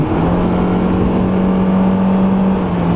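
A car's VTEC engine revs up under acceleration, a steady climbing drone with a rising tone held near the top of the rev range, loud and continuous for the whole stretch with no talking.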